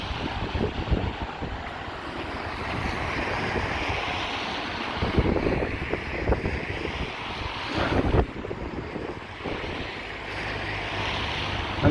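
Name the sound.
strong wind by the sea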